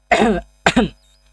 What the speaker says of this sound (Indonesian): lagi sedikit batuk